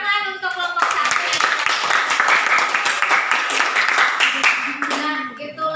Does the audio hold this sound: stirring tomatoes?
no